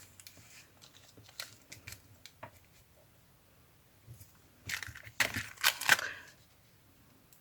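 Tracing paper bag being folded over for a Halloween craft: soft, quiet rustles early on, then a cluster of louder crinkling and creasing sounds near the end.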